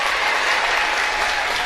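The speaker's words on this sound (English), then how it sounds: "round of applause of the couple hundred fans in attendance here, and both teams" A couple hundred fans clap together at a collegiate sports meet between A&T Stevenson and West Liberty, a steady wash of applause heard alone without talk.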